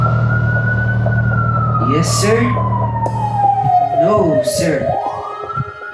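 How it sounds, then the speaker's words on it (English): A wailing emergency siren sweeps slowly downward in pitch before rising again, loud and close over an engine hum, while voices talk over it. "Until the sirens started to scream, and the red lights,"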